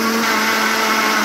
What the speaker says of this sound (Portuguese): Vamos colocar o shampoo no liquidificador